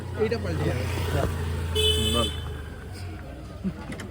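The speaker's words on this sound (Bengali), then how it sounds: "আমি টোটো চালাচ্ছি" An electric rickshaw (toto) drives along with a horn honking in short bursts, set under steady engine or road hum and continuous nearby talk.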